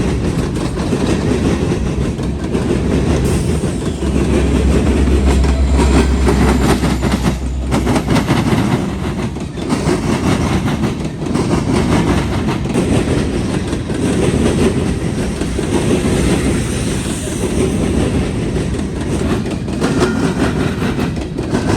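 A CSX coal freight train on the line through Marion, Ohio rolls past steadily and loudly for the whole stretch, its railcars clattering with a continuous rumble and clickety-clack.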